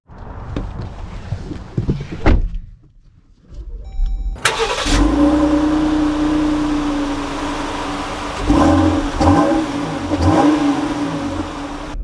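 A 2024 Dodge Durango GT starts up with a loud burst, then settles into a steady engine note and revs up twice toward the end, heard from close by with no talking.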